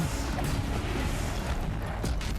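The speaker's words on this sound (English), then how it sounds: "Nothing like gunfire towards the machines." Gunfire aimed at robotic machines during combat in the video game Horizon Zero Dawn, a dense, continuous wash of rumbling blasts and impacts with a few sharper cracks, loud and steady throughout with no speech.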